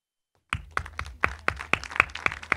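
An audience applauds at a French-language seminar round table as a speaker, the mayor of Gros-Morne, is called up; the clapping starts abruptly after a short silence and runs in loose, sharp rhythmic bursts, fairly close.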